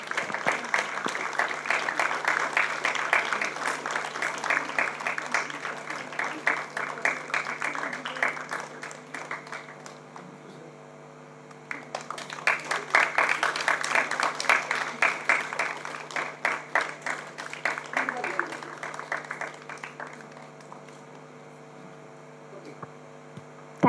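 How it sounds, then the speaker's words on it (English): Audience applause at a school district assembly installation ceremony, two long waves of steady clapping separated by a brief lull, with a constant electrical hum underneath. "I request the audience to kindly cheer up."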